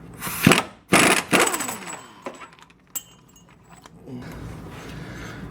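Air impact wrench working the 34 mm pitman arm nut on a 1998 Chevrolet Tahoe: two or three loud, close bursts of hammering rattle in quick succession, then a sharp clank and softer shop noise.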